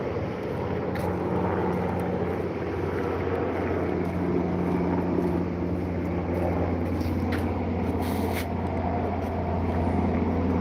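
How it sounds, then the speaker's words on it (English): A heavy, steady low rotor drone hangs overhead throughout, constant and fairly loud with a deep hum underneath. "The helicopter sounds very heavy."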